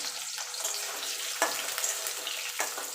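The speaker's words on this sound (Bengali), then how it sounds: "এবার আমি আলুটা ভেজে নেব এখানে আমি আলু দিচ্ছি" Potatoes frying in oil produce a soft, steady sizzle with a few sharper splashy bursts as pieces go in, quiet and close with no talk.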